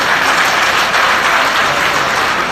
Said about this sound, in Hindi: उनका जोरदार ताली बजाकर स्वागत करते हैं।